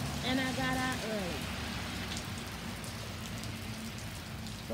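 Steady rain falls and patters on surfaces outdoors, a constant mid-level hiss running through the whole stretch, with a short voice-like tone near the start.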